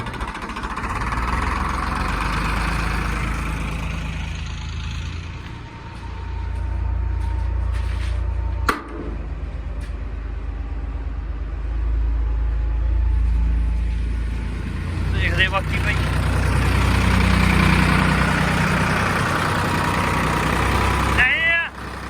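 An engine-driven generator drones steadily nearby, a low continuous rumble with a brief knock partway through and faint voices in the background.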